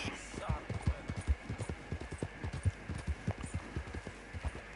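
Horse hooves clip-clopping at a steady walking rhythm while riding in a game, fairly faint and continuous, with a voice speaking quietly.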